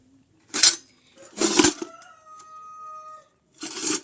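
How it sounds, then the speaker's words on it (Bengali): Puja utensils being washed by hand at home, giving three loud clattering bursts of metal dishes knocking together, with a thin ringing tone lingering between them. "আর এখন এবার ঠাকুরের বাসন কটা ধুয়ে নেব"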